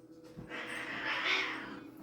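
Cats fighting, a drawn-out rising and falling yowl with a harsh caterwauling edge, fairly close and alone, lasting nearly the whole two seconds.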